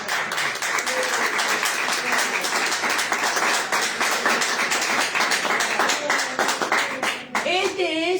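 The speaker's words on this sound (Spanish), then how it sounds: "Denle un fuerte aplauso" Loud, sustained applause and clapping from a church congregation, steady and dense for several seconds before tapering, with voices mixed in toward the end.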